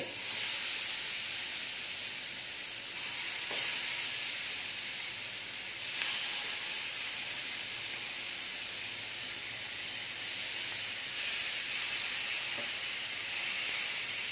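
Chicken pieces sizzle on a lightly oiled grill plate over medium heat, a steady close hiss with small crackles and pops throughout, no voices.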